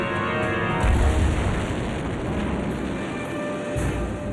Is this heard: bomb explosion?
yes